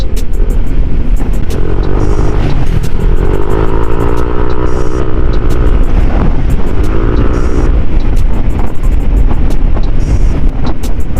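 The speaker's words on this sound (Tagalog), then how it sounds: "umiiyaw ang ating bagong pipes guys" A Honda PCX150 scooter with new JVT V3 exhaust pipes, bell and clutch drones loudly and continuously with buffeting wind, rising and falling in pitch as the throttle opens and eases, no voices.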